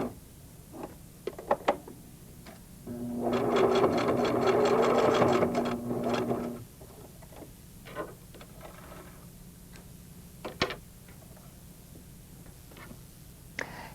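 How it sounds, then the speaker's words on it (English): A Singer sewing machine runs a short burst of straight stitching with back stitching through quilting fabric pieces, a steady rapid mechanical whir lasting a few seconds, with quiet handling clicks and taps before and after. "Place under the presser foot and straight stitch, back stitching several times"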